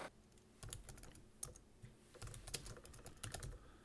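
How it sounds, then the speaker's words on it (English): Bursts of rapid typing on a computer keyboard, close and crisp, with clusters of key clicks separated by brief pauses and no talking. "Now you can start typing."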